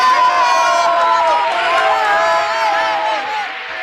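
A theatre audience at a singing duo performance cheers and shouts, a loud, continuous crowd roar with whoops and high voices that swells and slowly fades across the clip.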